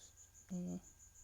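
A single cricket indoors gives faint, evenly spaced high chirps in a steady rhythm, broken once by a brief louder low hum.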